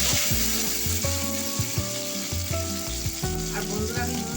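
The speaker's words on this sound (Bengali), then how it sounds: "এরপর আমি কুচানো টমেটো দিয়ে দিচ্ছি। দিয়ে এটা একটু ভেজে নেব।" Chopped tomatoes fry in a pan for a vegetarian chana paneer, giving a close, steady sizzle with bursts of stirring and scraping against the pan, no talk.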